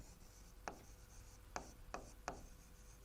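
Chalk or marker strokes on a board while a chemistry definition is written in a lecture, four short sharp taps and scrapes spaced unevenly over a quiet room hum.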